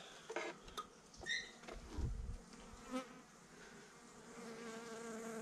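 Bees buzzing faintly inside an early-season hive during a spring check, a soft, steady hum with a few brief louder buzzes from individual insects passing close.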